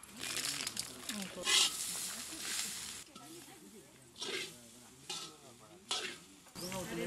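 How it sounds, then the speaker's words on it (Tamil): Masala with grated coconut and rock salt frying in a pan for chicken salna, a continuous sizzle broken by scraping stirs, under a person talking. "நம்ம சேர்த்த மசாலா நல்லா வதங்கிடுச்சு."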